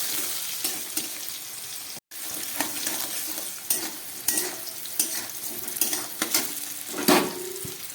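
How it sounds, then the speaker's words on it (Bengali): Pieces of brinjal fry in hot oil with a pinch of salt, a dense, close sizzle broken by scraping stirs and light clinks of a utensil against the pan, with a brief drop-out near the start. "সামান্য একটু নুন দিয়ে দিচ্ছি। এটাকে ভালো করে ভেজে নিই।"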